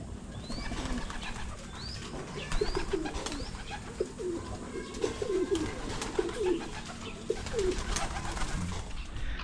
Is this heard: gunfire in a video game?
no